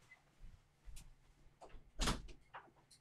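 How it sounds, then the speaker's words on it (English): A house door opened to let a dog in, with scattered quiet clunks, a latch click and one firmer knock or bump, faint and somewhat distant, no voices. "I gotta open the door. Hold on and let my dog in"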